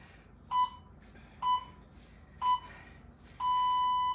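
Beeps from a workout interval timer during a core strength and mobility session: three short evenly spaced tones about a second apart, then a longer sustained beep, clear and close in a quiet room.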